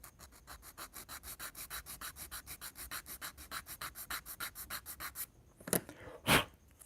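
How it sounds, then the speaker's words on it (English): A Corvair interior piece is sanded by hand at an angle, giving a steady run of about thirty even, rhythmic rubbing strokes, close and fairly quiet. Two louder, harsher scrapes follow. "Sand it at an angle."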